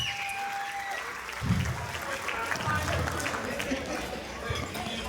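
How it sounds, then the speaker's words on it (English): Guests at a wedding reception for a bride and groom break into a big round of applause, steady dense clapping lasting several seconds with chatter mixed in. "Can we have a big round of applause for them?"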